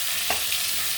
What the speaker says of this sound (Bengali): পটলটাকে ভালো করে নেড়ে চেড়ে লাল করে আমি ভেজে নেব।